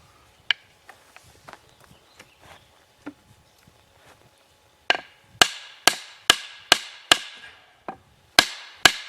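Hammer driving a wedge into the head of a True Temper Black Prince axe handle, light taps first, then about eight loud, sharp, evenly spaced strikes close by.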